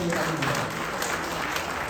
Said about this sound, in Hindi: जो भी मेरा साथी पूर्वांचल का है, चाहे मेरी माता है, बहन है, जोर से ताली जरूर बजाएं, जोरदार